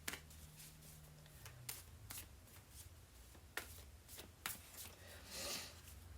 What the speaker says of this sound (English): It's a little bit harder to shuffle because it's become some concave a little bit